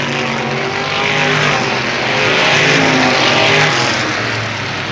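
Race cars roar past at close range on the final lap at Avilla Motor Speedway in 1995, a loud continuous engine drone swelling and fading as the pack goes by.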